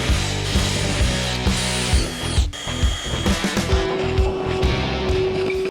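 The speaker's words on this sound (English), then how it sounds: "I'm going to take this little small drill bit here, and I'm going to pre-drill them all the way through into the wood" Small bit of a power drill boring pilot holes through into wood while fitting a Maxxair Maxxfan roof vent on a camper conversion, a steady loud whirring grind with brief pauses between holes.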